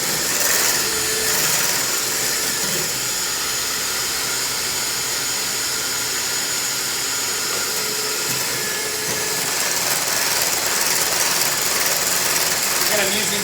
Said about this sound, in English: Again, I'm using the handheld mixer.